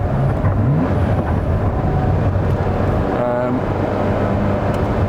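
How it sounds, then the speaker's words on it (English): A Ferrari F40 drives on a road test, its engine a continuous droning rumble mixed with wind buffeting inside the cabin, and a voice speaks over it. "being sat in a Ferrari F40 on road test"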